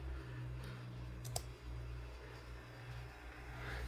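A single sharp Enter keypress on a computer keyboard clicks once just past the middle, faint over a low steady hum of computer fans in a quiet room.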